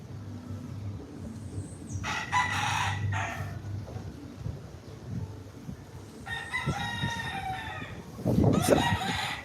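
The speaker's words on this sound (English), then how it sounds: "It's a lot of them back there." A large flock of backyard chickens can be heard, with roosters crowing in three separate bursts over steady clucking and faint background noise from somewhere nearby.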